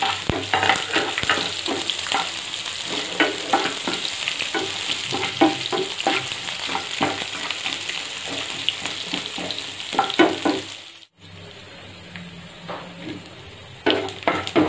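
Thinly sliced onion and curry leaves frying in a pan for a green chilli masala curry, a continuous close sizzle broken by repeated stirring scrapes, briefly dropping out before resuming, no talking.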